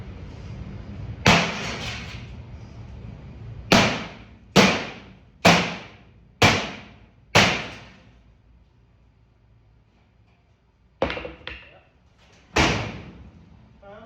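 Heavy metallic hammer blows knocking welds off a 1948 Chevrolet 5-window car body ring out one at a time, a run of six evenly spaced strikes, then a pause and a few more, loud and close.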